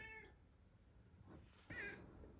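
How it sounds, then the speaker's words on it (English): A cat meows twice, faintly and close by in a quiet room, with a short first call and a longer, stronger one near the end. "that's when you start meow, meow, meow, meow"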